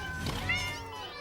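Cat meows from the creatures in the Satisfactory video game, a single drawn-out mewling call over a steady game background hum.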